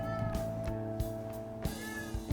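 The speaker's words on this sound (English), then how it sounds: "Sorry if you hear my cat." A house cat meows a few times, fairly faint and set against steady game music and background ambience.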